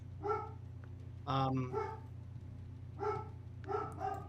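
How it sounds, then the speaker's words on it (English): A dog barks in a few sharp, close bursts, with pauses between them, indoors over a low background hum. "because Reggie is barking"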